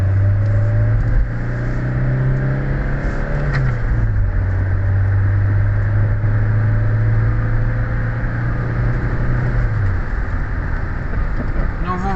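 Citroën Picasso HDi 90 hp diesel car accelerating hard in second gear, a loud steady engine drone rising in pitch, briefly dipping, then holding a high note before easing off near the end, with rain-like hiss throughout.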